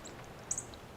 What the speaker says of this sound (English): Cardinal.